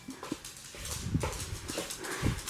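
Dogs eating homemade DIY dog treats, with small snuffling, chewing and a few soft whimpers close by, brief clicks of mouths and movement, and no voices over the sounds.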